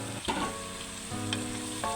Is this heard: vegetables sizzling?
yes